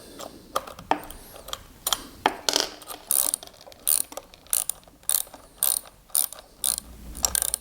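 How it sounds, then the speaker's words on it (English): A 10 mm socket wrench ratchets while locking down the bolt on a bench grinder: a string of sharp, close metallic clicks in short bursts with brief pauses between them, loud and clear with no talking. "I'm going to use a socket of 10 to lock this down"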